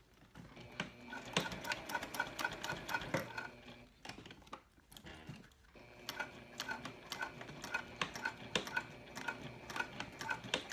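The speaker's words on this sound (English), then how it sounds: "I like to put some back stitches in on my D-ring attachment." Sewing machine back-stitching a D-ring attachment on a key fob wallet: bursts of rapid mechanical stitching clatter, a brief pause near the middle, then steady close-up stitching resumes.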